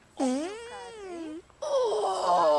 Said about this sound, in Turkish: Osuruk şakası klasik.